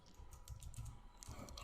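Soft clicking keystrokes on a computer keyboard, a short burst of close, light taps while a database file is renamed, with no talk over them.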